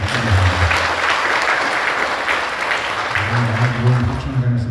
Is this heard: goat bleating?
no